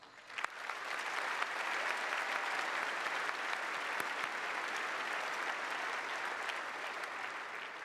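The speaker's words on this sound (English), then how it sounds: "Please join me in thanking them for their efforts with a round of applause." A large freshman convocation audience at Rochester Institute of Technology applauds the RIT Board of Trustees, with dense, sustained clapping filling the hall at an even level throughout.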